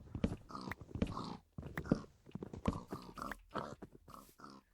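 Pigs grunt and snort in a pen in a video game, a busy run of short, irregular oinks and snuffles close up with no talking.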